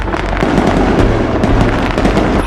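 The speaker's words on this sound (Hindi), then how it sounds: "अब धमाके का वक्त हो गया है।" A loud, dense crackling burst of explosive pops and bangs, rapid and continuous, close and dominant with no voices.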